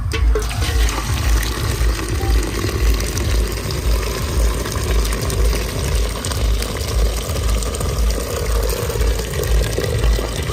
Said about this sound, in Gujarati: આપણે હવે પાણી નેતારી દઈશું અને પછી પાપડી આપણે ડીશમાં કાઢી લઈશું